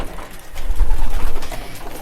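Pigeons at their loft make loud, close cooing and low bird sounds with soft rustling, continuous over the short stretch, with no talking.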